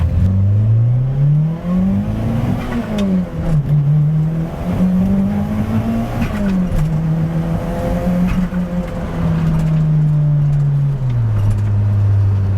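A Mitsubishi Eclipse, abandoned for fifteen years and running on ten-year-old engine oil, accelerates hard while driving. Its engine note climbs and drops through the gears in a loud, continuous drone with no voices.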